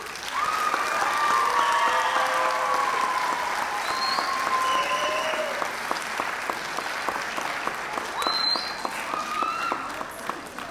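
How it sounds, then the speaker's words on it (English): An audience at a 6th grade elementary school graduation ceremony applauds steadily for about ten seconds. The clapping is dense, with scattered whistles and cheers, and it fills a large room. "let's go ahead and give them a round of applause"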